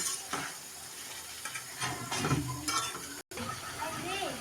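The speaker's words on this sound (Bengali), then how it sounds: "এখন আমি এখানে আর পানি দিব যে মাছটা একটু হালকা করে কষাই নেব" Rui fish sautéing in water in a small pan, simmering for a bhuna curry: a steady wet sizzle and bubbling with occasional stirring scrapes and a soft clink near the end, no talking.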